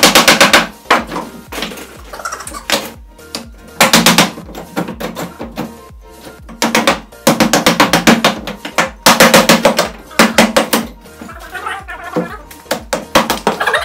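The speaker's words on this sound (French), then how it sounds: "Vous pouvez maintenant les retirer à l'aide d'un marteau." A hammer knocks the central wooden blocks out of a pallet being taken apart for a Christmas tree build, loud repeated bursts of sharp strikes separated by short pauses.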